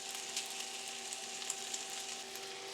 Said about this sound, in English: we've had our roux and the vegetables cooking, stirring in for about 15 minutes